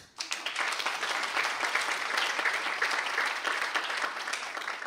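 An audience at a Latvian precision-medicine forum gives sustained, even applause, many hands clapping steadily at moderate volume from start to finish with no talk over it.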